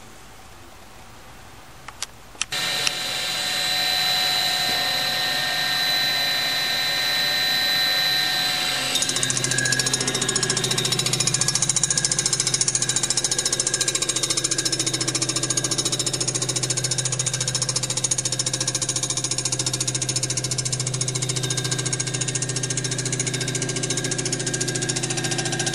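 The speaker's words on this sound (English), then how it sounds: "we're going to go ahead and resurface this and show you how it's done." A machine resurfaces the deck of a Chevy 216 engine block in a shop, giving a loud, steady grinding and cutting drone that keeps going for most of the stretch after a short quieter start.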